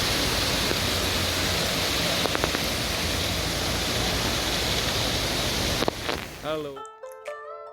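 A hill waterfall in Sri Lanka on the road to Nuwara Eliya, rushing water roaring continuously and loudly, cutting off abruptly near the end into brief quiet tones.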